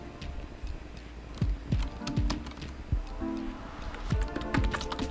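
Keys clatter on a computer keyboard while typing in Microsoft Word, a quick irregular run of close, crisp clicks with short pauses between bursts.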